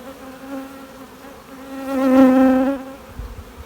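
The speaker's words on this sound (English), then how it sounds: "I had a very small cluster of bees here." A small cluster of honeybees in a nucleus hive buzzes steadily, the drone swelling louder for a moment in the middle before easing back to a softer hum.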